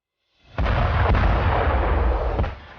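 An M777 howitzer artillery gun firing near the LOC, a single loud, close boom with a sharp onset followed by a sustained rumbling roar that fades slightly at the end.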